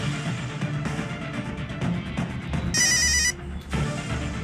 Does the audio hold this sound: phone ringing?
yes